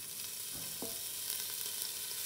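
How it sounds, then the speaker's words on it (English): Diced onion sizzling in a pan with tempered whole spices and a kaffir lime leaf, a steady faint frying hiss with a couple of brief stirring scrapes, no talk. "the onions go in, they're gonna collect all that flavor off the bottom of the pan"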